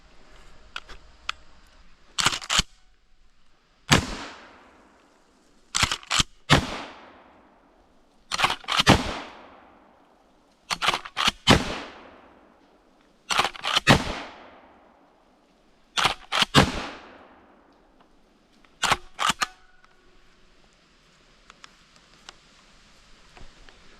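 A KelTec KSG12 pump shotgun fires repeatedly outdoors, with sharp blasts roughly every two seconds, each one followed by a decaying echo and the clack of the pump action between shots.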